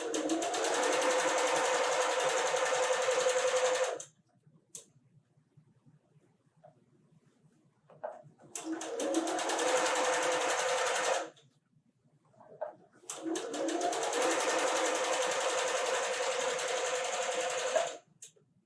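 A sewing machine stitches a Whirlwind quilt block in three runs of rapid, even needle chatter, the first about four seconds, then a longer pause, a three-second burst, and a final six-second run, close and steady.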